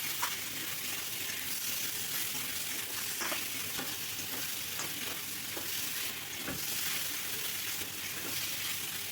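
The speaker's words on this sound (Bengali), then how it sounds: "টমেটো কুচিটা দিয়েও মিডিয়াম ফ্লেমে আমি কিছুক্ষণ ভেজে" Chopped tomatoes frying in a little oil over a medium flame for ghugni, with a continuous close sizzle and repeated scraping and stirring taps from a spatula against the pan.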